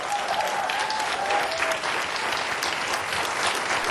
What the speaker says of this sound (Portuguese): Peço o vosso aplauso para a Vanessa Fidalgo.